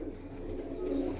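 Pigeon cooing from a prized female show pigeon, a soft low continuous coo held steady for a brief moment, close and fairly quiet with no talk over it.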